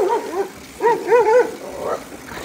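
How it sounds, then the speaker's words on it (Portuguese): A dog barks and yelps in several short bursts, loud and close, with strained, whining tones between the barks and no talk over them. "esse cachorro atrapalhando o vídeo aqui"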